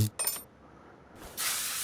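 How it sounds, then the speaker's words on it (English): A stuck engine bolt in Car Mechanic Simulator 2021 gets sprayed, giving a brief clink and then a steady aerosol hiss that starts late and carries to the end, with no voices. "Spray it and remove it."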